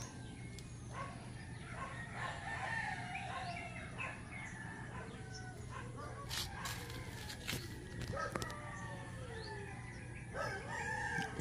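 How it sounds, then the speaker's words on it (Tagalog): A rooster crows several times at moderate distance over a steady outdoor hum, with clucking chickens and an occasional barking dog nearby, on a morning in the Philippine countryside. "Ingay ng aso, ingay ng manok."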